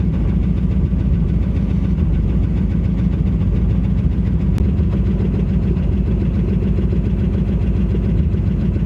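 A truck engine idles after a motor swap, warming up toward operating temperature, holding a steady, loud, low rumble with a fine rhythmic chug throughout and no talk over it.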